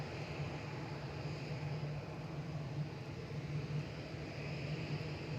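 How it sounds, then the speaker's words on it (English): A Gulf Air Boeing 787-9 Dreamliner at Manchester Airport gives off a faint, steady engine hum with a low drone, distant and unchanging, with no voices. "Very elegant looking 787-9 Dreamliner"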